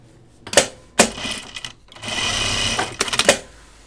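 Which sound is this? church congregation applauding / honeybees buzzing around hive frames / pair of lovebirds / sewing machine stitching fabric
sewing machine stitching fabric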